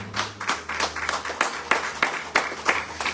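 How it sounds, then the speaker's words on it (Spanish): A church congregation applauds in praise during a Spanish-language sermon, with steady, dense clapping filling the room for a few seconds at moderate loudness. "¿Cuántos pueden darle un aplauso al Señor?"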